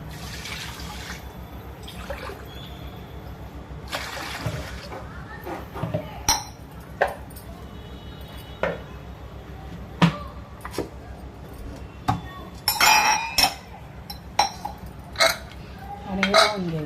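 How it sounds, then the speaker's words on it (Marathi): Water is poured onto one and a half bowls of rice in a pressure cooker amid quiet kitchen sounds, with sharp clinks of metal utensils and drips growing more frequent toward the end. "त्याच्यात 2 ग्लास पाणी घालायचं"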